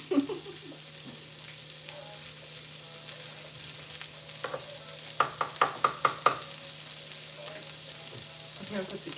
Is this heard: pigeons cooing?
no